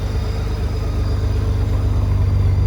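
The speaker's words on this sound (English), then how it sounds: "Vance & Hines exhaust on a Goldwing, guys. It's got a nice little rumble to it" A deep, steady exhaust rumble from an idling 2012 Honda Goldwing motor trike with a Vance & Hines exhaust, loud and close with a throbbing low pulse throughout.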